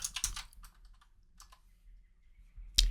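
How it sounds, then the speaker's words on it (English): Password being typed on a computer keyboard, a short close burst of key clicks, a few scattered taps, then a final sharp keystroke. "I'm gonna type the password yet again"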